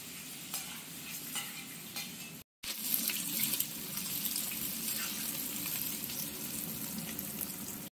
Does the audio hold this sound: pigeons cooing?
no